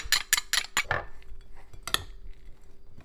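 Utensil clinks and scrapes in a pan as lobster meat and parsley are stirred into a cooked stuffing, a quick burst of metallic taps and stirring at the start, then quieter occasional scrapes, with no talk.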